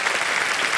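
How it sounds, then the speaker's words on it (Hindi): A short burst of studio audience applause on the quiz show Kaun Banega Crorepati, a dense, even patter of many hands clapping. "संदीप जी, तालियां बज जाए इनके लिए और स्वागत है आपका हमारे कार्यक्रम।"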